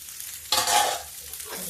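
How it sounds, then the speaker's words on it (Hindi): Onions frying on low heat in a pan for baingan bharta, with green chilli, ginger and garlic, giving a sudden close sizzle after a quiet start that fades to a softer steady hiss. "तो प्याज को धीमी आंच पे भून लेंगे"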